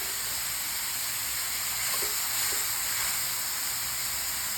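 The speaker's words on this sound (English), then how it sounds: "we're bringing in some diced white onions to go in with our ground beef, and we're just gonna cook these up super quick in our cast iron" Diced white onions and ground beef sizzle steadily in a cast iron pan, a dense continuous hiss held at an even level throughout with no talk over it.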